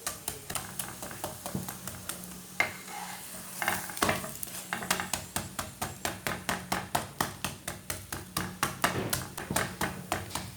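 Egg bread frying in a pan, a soft steady sizzle under regular sharp taps and scrapes as a utensil works and turns the bread, close and fairly quiet.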